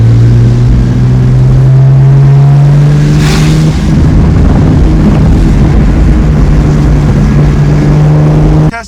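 A BMW Z4 coupe with an N52 engine driving, a loud steady engine drone with a sustained low tone that holds for most of the clip before cutting off abruptly at the end.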